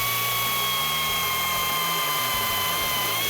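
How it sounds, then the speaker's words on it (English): A steady high-pitched drilling whine with a grinding, ratcheting mechanical chatter underneath, close and continuous for a few seconds, as a 7/8-inch step drill bores a hole through a panel. "We like to use step drills because they pilot themselves as they go through."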